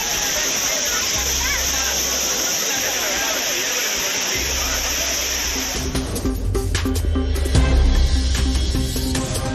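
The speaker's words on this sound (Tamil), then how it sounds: "ஜில்லென்று கொட்டும் தண்ணீரில் உற்சாகமாக குளியிலிட்ட ஐயப்ப பக்தர்கள் மற்றும் சுற்றுலா பயணிகள்" Courtallam waterfall pouring down with pilgrims and tourists bathing under it, a steady loud rushing roar of falling water with splashing and a constant hiss, and a low hum throughout as voices blend into the noise.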